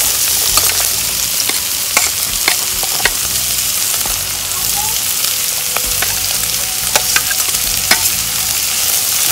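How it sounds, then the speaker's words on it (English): String beans frying in a hot pan with steady close sizzling, punctuated by repeated scraping clicks of a utensil stirring them, continuous for the whole stretch without talk. "we're going to put in the string bean now and fry them up."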